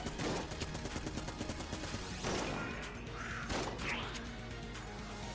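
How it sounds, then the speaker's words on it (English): Rapid, dense gunfire fills the dungeon-crawler game Enter the Gungeon, a steady barrage of loud shots with crashing impacts and a few rising tonal effects. No voices are heard. "Might as well keep shooting."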